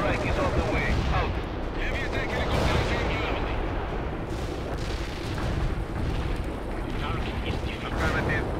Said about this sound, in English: Heavy airstrike is on the way.